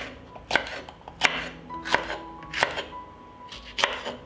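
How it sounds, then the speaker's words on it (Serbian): A head of garlic chopped with a knife on a board: six crisp, evenly spaced chops, close and distinct, with quiet pauses between, no talk. "Nakon paprika usitnit ću 1 glavicu belog luka."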